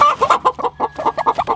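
Chickens cluck close up at farm nest boxes, a rapid run of repeated throaty clucks, loud and unaccompanied.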